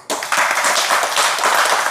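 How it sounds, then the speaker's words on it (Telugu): An audience claps at a spiritual discourse, a dense, steady patter of many hands that starts abruptly and carries on without a break. "ఒక్క నిమిషం, చప్పట్లు ఎందుకు కొడతారు"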